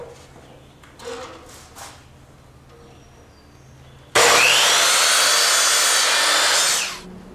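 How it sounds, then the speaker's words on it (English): A miter saw cuts wood side rails and roof pieces for a bat house, starting abruptly with a loud, steady, harsh whine that runs about three seconds before winding down, after quieter handling noises. "Now, using a miter saw, I'm going to cut my side rails and roof to length."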